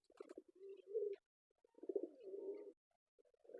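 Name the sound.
pigeons cooing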